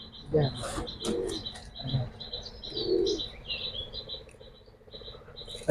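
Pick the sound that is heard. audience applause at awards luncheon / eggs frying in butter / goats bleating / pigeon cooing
pigeon cooing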